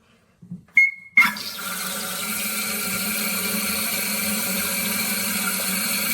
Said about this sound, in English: We're going to turn the water on.